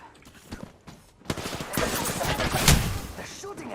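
Bursts of rapid gunfire from Apex Legends crackle in irregular volleys that grow denser and louder midway, mixed with other game noise.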